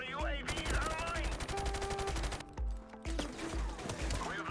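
Rapid automatic gunfire in Call of Duty Modern Warfare II, with dense bursts of shots crackling almost continuously and brief gaps between volleys, loud and close.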